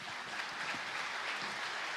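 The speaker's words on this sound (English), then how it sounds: "Once again, your applause." A conference audience at a Black Sea security forum applauds steadily, a dense wash of many hands clapping at a distance, unbroken throughout.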